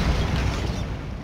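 Bombarda blasting spell from the video game Hogwarts Legacy: a single heavy, booming burst that rumbles on and fades over about a second, loud and close with no talk.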